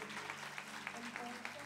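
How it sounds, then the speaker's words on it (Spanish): Congregation applause at a church gathering, faint rhythmic clapping in steady beats over a humming background tone, with some distant voices. "Dale un aplauso a ese Cristo bello."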